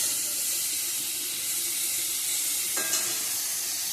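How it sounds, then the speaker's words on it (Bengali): Eggplant frying in a pan, a fairly quiet, even hiss of sizzling oil with a faint stir or clink near the end. "এদিকে বেগুন ভাজাটা বসিয়ে দিছি।"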